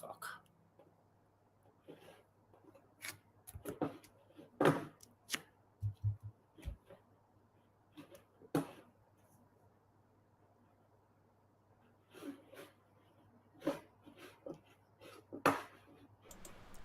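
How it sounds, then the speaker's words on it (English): Scattered clicks and taps on a keyboard come in short uneven bursts of keystrokes, close and quiet, with long pauses between them and a low steady hum underneath. "Sorry, just typing a little."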